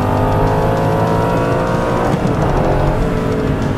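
A Spyker LM85 sports car engine roars continuously while accelerating on a straight, loud and close with a dense, sustained growl that holds steady across several seconds without any talk.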